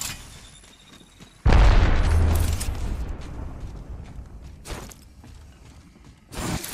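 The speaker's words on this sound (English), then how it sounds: "Throwing arc star." An arc star grenade detonating in a video game: a loud, abrupt booming blast with a crackling, sizzling tail that fades over several seconds, followed by another burst of noise near the end.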